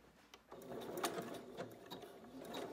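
A sewing machine bastes a swimsuit with a zigzag stitch, its needle mechanism whirring in a quick, even, fairly quiet run after a brief pause at the start.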